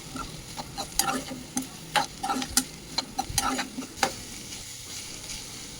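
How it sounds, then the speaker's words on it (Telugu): Chopped carrots stir-fried in a pan for a carrot fry, with a steady sizzle and repeated scraping stirs at an uneven rhythm. The stirring is close and moderately loud, with no talk. "తర్వాత కట్ చేసి పక్కన పెట్టుకున్న క్యారెట్స్ అందులో వేసి బాగా మిక్స్ చేయాలి."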